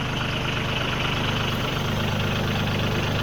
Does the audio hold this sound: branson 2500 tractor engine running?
yes